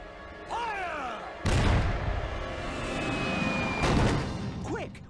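Cannon fire in the PC game Disney's Villains' Revenge: two heavy booming blasts about two and a half seconds apart, loud and close, with a whistling sweep and other game effects around them.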